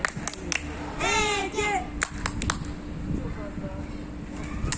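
Voices cheer and shout encouragement for a child named Ege crossing a long zipline at an adventure park, with a few sharp claps and clicks over steady outdoor background noise.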